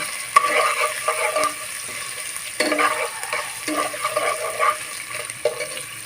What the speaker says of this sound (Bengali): আর দিয়ে দেবো আদা রসুন পেস্ট দিয়ে আমি একটু ভালোভাবে ভেজে নিব